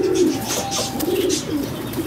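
A plump, good-sized female pigeon coos repeatedly in soft, low, rolling phrases while held up close for display, with faint background rustle and no talk.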